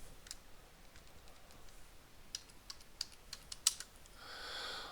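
An object name is typed on a computer keyboard as a series of light, scattered key clicks over a faint background hiss, quiet and close, ending in a brief soft whoosh.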